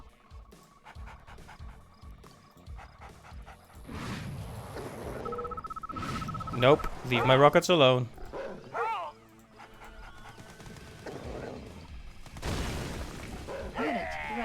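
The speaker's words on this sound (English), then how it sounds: "I am bringing a dog here" Attack dog unit in Red Alert 2: Yuri's Revenge panting and barking among game effects and unit voice lines, with someone talking over it.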